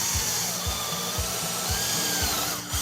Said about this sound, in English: we're going to drill just about There.